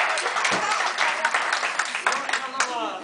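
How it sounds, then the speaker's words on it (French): An audience at a birthday celebration applauds with a dense round of clapping, while voices talk and call out over it. "Alors je crois qu'on peut les applaudir très très fort."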